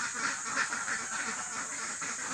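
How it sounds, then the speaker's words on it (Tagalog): Domestic ducks being let out of their pen quack faintly in the distance over a steady background hiss, with repeated overlapping calls. "palalabasin na natin yung mga ating mga itik napakaingay"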